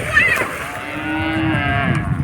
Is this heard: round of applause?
no